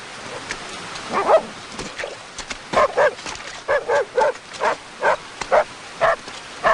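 Small dog giving a run of short, repeated barks and yips in a fairly regular rhythm, close and clear against a quiet outdoor background.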